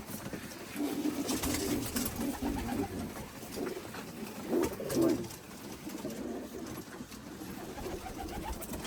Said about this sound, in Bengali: দু এক জোড়া কবুতর আমাদের পাকিস্তানি ব্লাডের